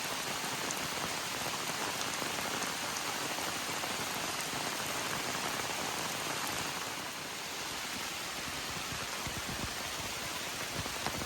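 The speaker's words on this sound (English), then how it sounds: "this is definitely some hard rain today" Hard, steady rain pours down in a dense, even hiss during a thunderstorm on a hiking trail, close and constant throughout with a slight dip midway, and no one speaking.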